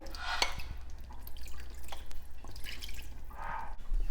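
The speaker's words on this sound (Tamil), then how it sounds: "இப்போ நம்ம குழம்புக்கு தேவையான தண்ணி ஆட் பண்ணிக்கலாம்." Water is poured into a pot of street-style chana masala gravy, producing splashing and dripping bursts with a few clinks of the pot, close and moderately loud, with no talking.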